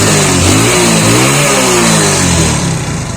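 A motorcycle with a white-smoke problem revs loudly while standing still, its engine note rising and falling in steady surges with no pause, close by and alone, with no voices.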